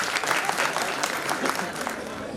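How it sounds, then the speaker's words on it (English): A school concert audience breaks into a short round of applause after a dance performance, with individual claps audible in the brisk, moderately loud clatter and a voice talking over it. "Can we have a big round of applause for this dynamic performance?"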